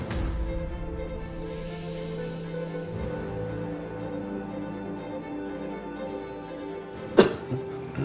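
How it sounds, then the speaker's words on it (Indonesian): A single short cough sounds near the end, close by, over a steady low electrical hum. "mengalami sesak nafas dan batuk"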